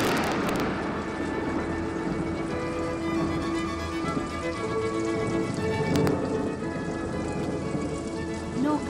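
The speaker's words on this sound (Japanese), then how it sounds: "小雨が降り始めると百花百草の新気象となる。" Light spring rain falls in the Japanese countryside, a steady, soft broadband hiss that lasts the whole stretch, with faint sustained tones underneath.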